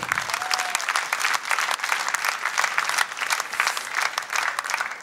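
A live audience applauds steadily for a performer, Meline Khachatryan, with dense continuous clapping filling the whole stretch at moderate loudness and no talk over it.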